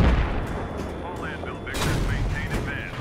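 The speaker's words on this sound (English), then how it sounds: "getting shot at from the right side" Gunfire and explosions in a Battlefield video game tank battle, sharp bursts and booms over a constant rumble, with a voice talking underneath.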